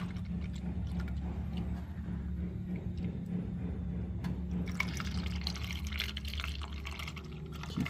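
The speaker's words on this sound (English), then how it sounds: "Alright, coolant's topped off." Coolant is poured into the radiator of a 1975 Pontiac Grand LeMans, a quiet, continuous liquid trickle and gurgle over low background hum, with a few brief clunks later on.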